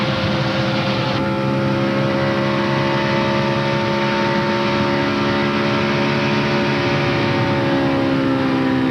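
A 2001 NASCAR Craftsman Truck Series race truck at Kansas Speedway, its engine roaring steadily and loudly at high revs throughout, the continuous drone reportedly missing now and then from suspected vapor loss.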